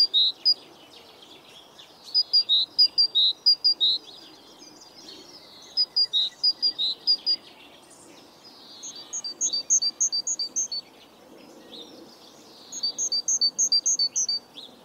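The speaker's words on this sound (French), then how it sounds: "Le ramage, c'est le chant des petits oiseaux comme le moineau" Small birds sing in repeated bursts of bright, high chirping trills, separated by brief pauses, over a soft steady background hum.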